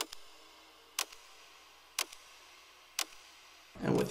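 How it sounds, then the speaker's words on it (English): Sharp ticking percussion hits from a trailer music cue, with Haas effect stereo widening, land at an even one-per-second pulse, crisp and isolated over a faint background, ending with a brief noisy swell. "with my ticks, really quick, what it sounds like with Haas effect applied."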